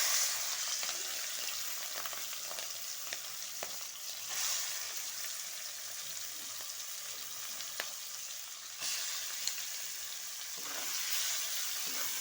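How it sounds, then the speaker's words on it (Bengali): Prawns fry in hot oil in a kadai with a constant, fairly quiet crackling sizzle, broken by a few light scrapes and pops as they are moved about, with no talking. "চিংড়িগুলো একটু ভেজে নেব।"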